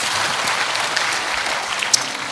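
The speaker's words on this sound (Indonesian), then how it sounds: "Berikan tepuk tangan kita untuk Tuhan kita." A church congregation claps during a service, a loud, dense wash of many hands filling the room, steady throughout with one sharp clap standing out near the end.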